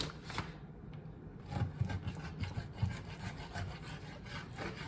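A dull kitchen knife sawing through salmon skin while portioning fish, heard as faint, close, rhythmic rasping strokes.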